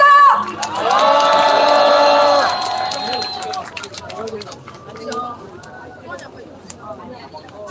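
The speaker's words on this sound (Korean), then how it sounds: "박수로 모시겠습니다" A crowd at a Korean labor rally against Japan's radioactive water release cheers and whoops loudly for a couple of seconds, then settles into scattered clapping and chatter while a voice speaks over a loudspeaker.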